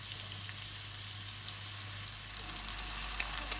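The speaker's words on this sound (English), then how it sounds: "now this is going to saute a bit more" Tomatoes and carrots sauté in a pan, giving a soft, even sizzle that holds steady and swells slightly toward the end over a low background hum, no talk.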